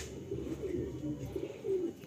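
Soft, low coos from a pair of Madras pigeons repeating in a gentle rolling rhythm, close by, with faint murmuring in the background.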